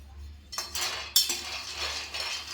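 Peanuts are stirred in a pan over a low flame for laddu, a spoon scraping and clinking against the metal in a few brief bursts over a quiet hum.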